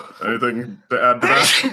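A single sharp sneeze bursts out right after a short spoken question, with people's voices close by around it.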